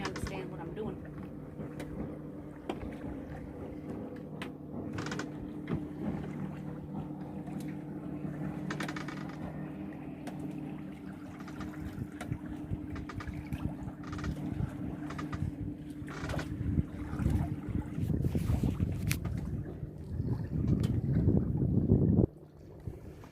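A sailboat running dead downwind wing on wing at about 4.5 knots on the Cowan river, with steady wind rush, water wash and creaks as a voice talks throughout.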